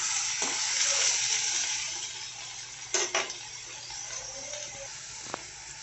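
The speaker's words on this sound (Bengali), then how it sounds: "আমি এটা ভালো মতন একটু নেড়ে নেব, সুন্দর করে নেড়ে নেব। চাল কুমড়োটা ভেজে নেব" Ash gourd pieces fry in a pan with a steady broad sizzle and hiss, broken by a few close scraping stirs and light clinks of a utensil against the metal.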